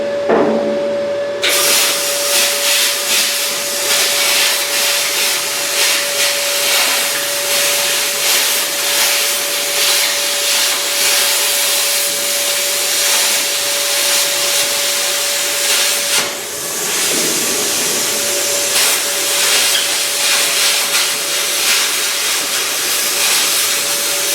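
A plasma cutter running continuously, giving a loud, close, roaring hiss with a steady whine held underneath, the noise briefly shifting a couple of times but never stopping.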